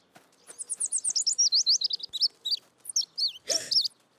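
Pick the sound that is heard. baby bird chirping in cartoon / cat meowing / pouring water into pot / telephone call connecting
baby bird chirping in cartoon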